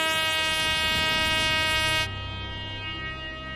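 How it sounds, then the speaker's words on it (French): A foghorn sounded on a reality-show island, a loud, sustained, rich tonal blast that cuts off abruptly after about two seconds, leaving a low lingering rumble behind it. "Quand je vais actionner la corne de brume, les autres vont comprendre qu'un premier poignard a été trouvé."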